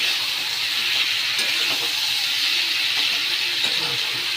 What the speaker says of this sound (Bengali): এবার ভালো করে একটু কষিয়ে নেব